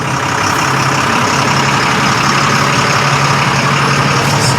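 A surplus army truck's engine idles with a steady, loud, low rumble, close and constant with no talking.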